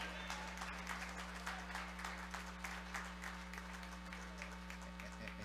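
A crowd at a church usher anniversary service applauds steadily throughout, a continuous wash of clapping heard somewhat distant over a low steady hum.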